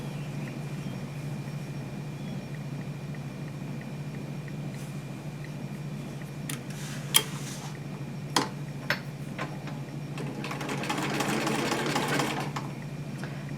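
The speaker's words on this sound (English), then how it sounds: "So I'm going to go ahead and sew my rows together" A vintage sewing machine stitches quilt block rows together with a steady, fairly quiet low hum and a light mechanical patter, with a few sharper clicks and a busier stretch of rattling near the end.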